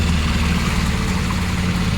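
The engine of a tour boat on the Kerala backwaters runs as a steady low droning rumble, loud and close, constant over two seconds with no voices.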